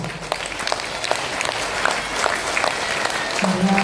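Loud audience clapping at a Kannada community gathering, a steady wash of many hands with a few sharper claps standing out and faint crowd noise underneath.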